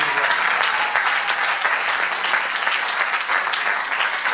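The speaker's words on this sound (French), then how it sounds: "Est-ce qu'on peut acclamer très fort pour le Seigneur?" A church congregation claps and cheers loudly for the Lord during a French-language sermon, producing dense, steady applause that fills the space without pause.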